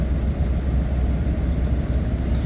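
A work truck engine runs close by with a low, steady rumble that swells slightly as it is revved, holding a continuous throbbing drone throughout with no talk.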